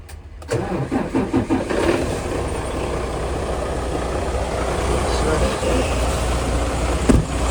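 A Dodge Challenger truck-tractor engine cranks over in a few quick pulses, catches, then settles into a loud, steady running rumble close by, with a brief louder burst near the end.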